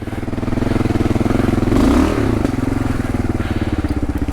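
Adventure motorcycle on Bridgestone AX41 tyres, rear wheel spinning on tree roots off-road; a loud, steady close engine drone with rapid pulsing and a brief surge in revs midway, no talking.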